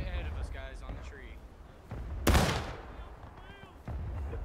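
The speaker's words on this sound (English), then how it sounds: "You can see the shooting. We're firing as well." Gunfire in the Civil War multiplayer game War of Rights: one loud, close musket shot cracks out amid fainter scattered shots, with people talking throughout.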